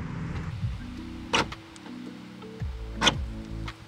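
Vauxhall Vivaro LWB campervan central locking actuating, two sharp mechanical clunks about 1.7 seconds apart over a low steady electrical hum, close and fairly quiet.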